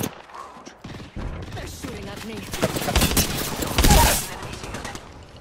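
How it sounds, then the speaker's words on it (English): Gunfire in Apex Legends battle royale game, aimed at the player: rapid bursts of automatic shots crackle in clusters, growing louder and densest near the end, with game sounds mixed in. "They're shooting at me."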